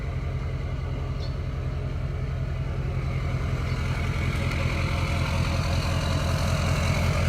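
A deleted Duramax diesel engine in a 2011 Chevy 3500HD service body truck idles with a deep, steady low rumble, close and continuous, its throb growing slightly louder toward the end.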